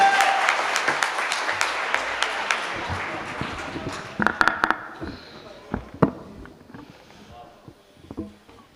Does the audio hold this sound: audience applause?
yes